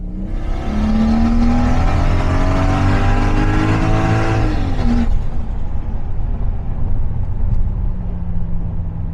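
A turbocharged 2JZ-GTE engine in a Lexus GS300 sedan accelerates hard and loud, its pitch climbing steadily for about five seconds before the note drops as it shifts and settles into a lower drone.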